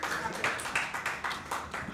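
A small audience at an open-mic Hindi poetry evening claps in a steady rhythm, the hand claps sparse and moderately close with no voices over them.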